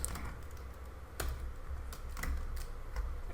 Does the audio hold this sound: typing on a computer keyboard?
yes